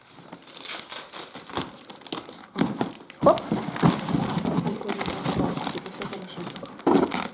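Close crinkling and tearing of paper and tape in irregular bursts as a taped gift package is unwrapped, with voices talking over the rustling.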